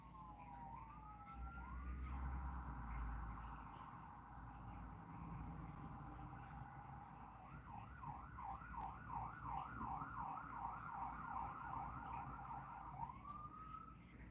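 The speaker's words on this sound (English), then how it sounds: "Another ambulance?" An ambulance siren wails in long rising and falling tones, then switches to a fast, warbling yelp, heard from a moderate distance over faint traffic.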